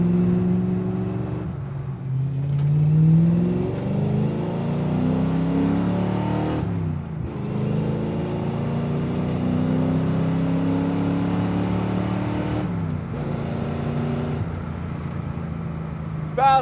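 Carbureted 5.0-liter V8 in a Foxbody Mustang drift car, with a rough engine note rising and falling through several rev surges and short gaps, close by and under someone talking.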